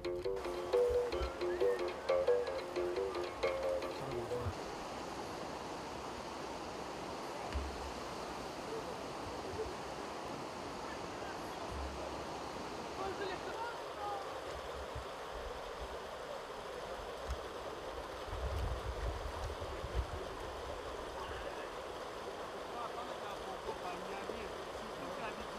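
The Lofoï river flowing at a crossing point reached on foot, a steady broadband rush of running water heard at moderate distance, with some faint voices mixed in early on.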